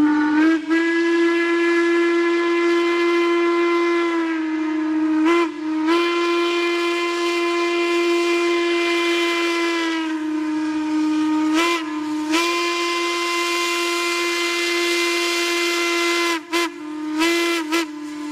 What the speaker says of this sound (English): a whistle from a locomotive we all know and love blows away the young and old alike